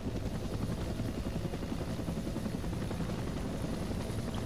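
AH-1W Cobra helicopter in a video game, a loud steady rotor thrum and engine drone, constant throughout with no talk.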